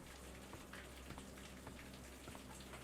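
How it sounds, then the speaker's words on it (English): Steady rainfall in Dreamfall Chapters, a faint continuous patter of drops on surfaces with soft scattered taps, no voices. "Hey, it's raining."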